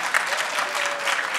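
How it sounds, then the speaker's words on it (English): A crowd applauds, steady clapping filling a short stretch with no pause. "My role is clearly to set up Richard for applause lines."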